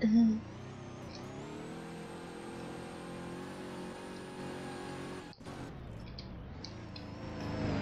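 Car engine in the Roblox Prison Life video game, driving with a steady mid-pitched drone, briefly cutting out and then revving back up, with a short voice heard at the start.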